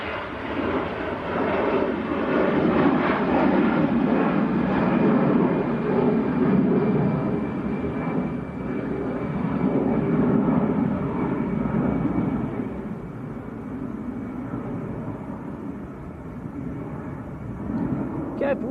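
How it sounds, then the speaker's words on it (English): An EasyJet airliner takes off at Manchester Airport, its jet engines making a broad, distant roar that swells and fades across the whole stretch, with wind buffeting the microphone and a person talking at times. "Got another EasyJet taking off"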